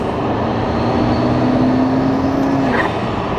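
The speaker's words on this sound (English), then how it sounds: "I just want to hear those turbos over and over again" A 1400 hp twin-turbo Lamborghini engine in a racing video game hums steadily, then a rising turbo whine builds and fades.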